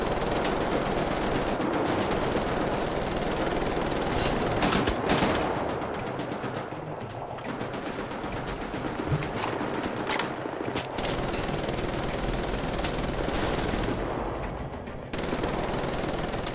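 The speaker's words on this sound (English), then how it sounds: "Why are you shooting?" Rapid automatic gunfire rattles almost without pause in Wolfenstein The New Order VR, loud, dense bursts of shots with brief lulls, the firing near and continuous through the whole stretch.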